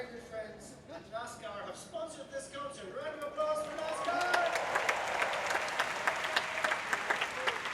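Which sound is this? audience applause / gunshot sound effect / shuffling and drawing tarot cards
audience applause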